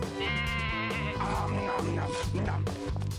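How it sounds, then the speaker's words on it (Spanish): A goat bleats repeatedly over a busy, bouncy children's music track, with several wavering cries close up and loud that stand out in the mix. "¡La cabra se subió a la mesa!"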